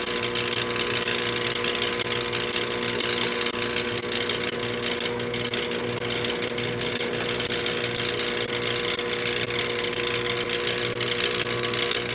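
A modified Harbor Freight drill press with a two-speed transmission and pulley drive runs steadily, giving a constant, even motor hum and whine that stays unchanged throughout with no talk.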